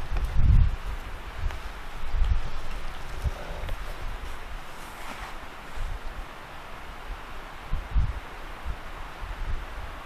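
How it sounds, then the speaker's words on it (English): Wind gusting at an autumn campsite, a steady low rumble with stronger buffeting bursts near the start and again later, continuous over the whole stretch with no talk. "you can definitely hear the wind"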